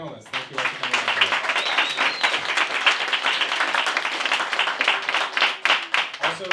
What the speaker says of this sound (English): give a big round of applause to all of our panelists